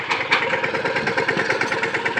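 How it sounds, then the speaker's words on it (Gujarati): A Sonalika tractor drives through a farm field, its diesel engine chugging in a steady, fast pulsing rhythm, moderately loud and close, with no voices. "ખેતરની વેચમાં સોનાલિકા ટ્રેક્ટર જાય છે"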